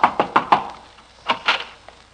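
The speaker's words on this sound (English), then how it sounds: "I'll knock on the door." A wooden door is knocked on in two separate series, four evenly spaced raps followed by three more, close and clear with no talking.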